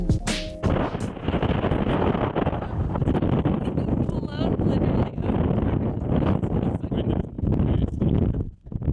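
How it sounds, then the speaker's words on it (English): Strong gusting wind of about 40 mph buffets the microphone on an exposed Peak District hilltop, a loud, continuous roar with rumbling low-end gusts throughout, while a voice talks over it. "up here the wind is just whipping like crazy"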